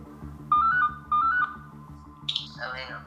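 A phone rings with an incoming international call from the Philippines: two short bursts of a bright melodic ringtone, fairly close, followed by a brief higher electronic blip and faint rustling, with no talking.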